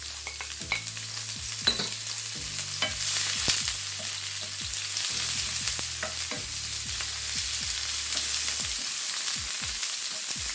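Onions and leeks browning in a frying pan give a steady, close sizzle with occasional utensil taps and scrapes. A low electrical hum runs underneath, and no one speaks.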